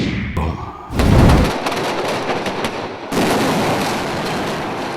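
A staged explosion for a film action sequence, shot with several cameras and crash boxes, erupts as a sudden loud boom with a deep low rumble, then settles into a sustained roaring crackle and debris noise that continues to the end.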